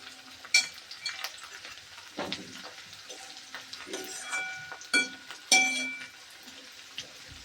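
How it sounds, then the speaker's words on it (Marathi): Green chilies sautéing in a pan, a soft sizzle with intermittent scraping and clinking of a spatula against metal, close by and without talk. "त्यामध्ये टाकूया हिरवी मिरची. ते छान परतून घ्या."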